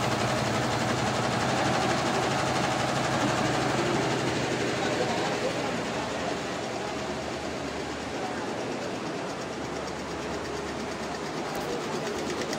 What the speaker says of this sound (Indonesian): Mesin bordirnya bagus banget teman-teman. Ini sudah tidak menggunakan tenaga manusia, sudah menggunakan mesin bordirnya.